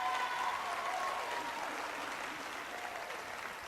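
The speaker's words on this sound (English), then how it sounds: "Give yourself a hand clap." An audience applauds at a GED graduation ceremony, a sustained wash of clapping from many hands in a hall that holds steady and then tapers slightly.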